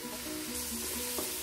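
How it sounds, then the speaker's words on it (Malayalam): Ginger-garlic paste dropped into hot oil for a party chicken curry, giving a quiet, steady sizzle with light stirring scrapes and no voices. "ആ ഒരു ഇഞ്ചിയും വെളുത്തുള്ളിയുടെയും പേസ്റ്റെല്ലാം ഞാൻ ഇതിൻ്റെ അകത്ത് ഇടുകയാണ്"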